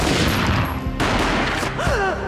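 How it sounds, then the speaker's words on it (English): Gunfire rings out in the Max Payne video game, a loud burst of shots followed by a sharp crack midway. Ringing game effects and a rising tone trail after it. "A gunshot boomed and she fell down in slow motion."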